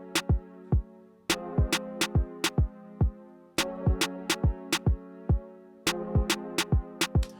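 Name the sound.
main kick drum and snare drum sounds in beat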